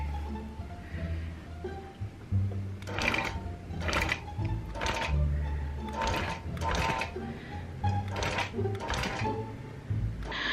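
A longarm quilting machine bastes fabric with bursts of rapid, rhythmic needle stitching, close and moderately loud, separated by short pauses over a steady motor hum.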